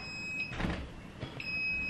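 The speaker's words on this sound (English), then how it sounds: "When the light is on for too long, it goes beep, beep, beep, beep, beep." A dorm closet light alarm gives a faint, steady high-pitched electronic beep that cuts out briefly and then resumes in a quiet room, with soft rustling in between.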